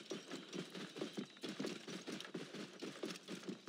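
Rapid, evenly spaced footfalls of a chocobo, a large bird mount, running uphill in Assassin's Creed Origins, a steady clip-clop gallop close up over a continuous game-world background.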